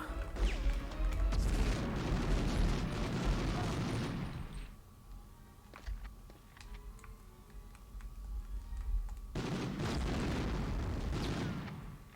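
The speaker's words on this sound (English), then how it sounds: "Clatter clatter grenade." A grenade goes off in Medal of Honor on the PS1, a loud booming burst followed by a quieter stretch of scattered ticks and clicks, then a second heavy blast.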